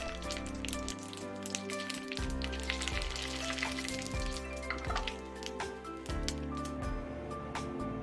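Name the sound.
bean curd sheets frying in oil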